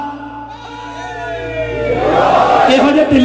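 Crowd at a Muharram majlis procession in Toba Tek Singh shouting a religious slogan, a single voice leading before many voices swell into a loud collective roar.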